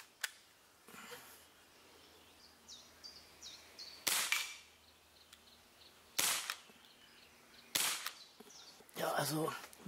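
A Makarov CO2 air pistol is fired at a can about 20 meters away, giving five sharp cracking shots at irregular intervals. Each shot is loud and snappy, with quieter outdoor ambience and faint chirps between them.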